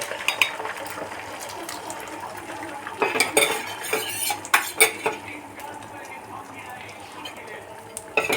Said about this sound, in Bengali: ডিমগুলো কিন্তু খুব বেশি কড়া করে আমি ভাজবো না